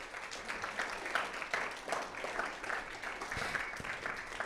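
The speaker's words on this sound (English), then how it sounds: "Can we give a round of applause for the groups that presented today?" An audience at the Inventanooga 2023 event claps for the presenting groups, a steady, moderately loud round of applause that fills the room throughout.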